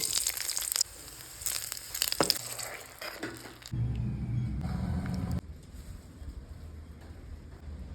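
Onion vadagam tempered in hot oil gives a crackling sizzle and rumble that starts and stops in sections, with some sharp clatters early on and a quieter, duller hiss toward the end.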